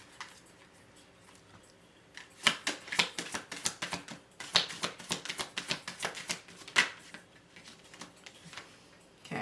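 A deck of tarot-style cards being shuffled and drawn in a quiet room, a dense run of crisp riffling snaps and flicks in bursts with brief pauses, close and fairly loud with no talking.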